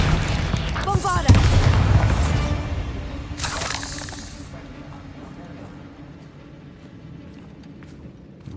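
Bombarda spell explosion in Hogwarts Legacy: a loud crashing blast with shattering debris, a second burst a couple of seconds later, then a long fading rumble.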